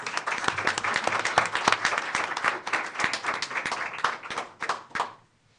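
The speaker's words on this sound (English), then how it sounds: "Give her a round of applause." An audience at a school board of education meeting gives a steady round of applause for a middle school media coordinator, many hands clapping at moderate level before the sound cuts off sharply near the end.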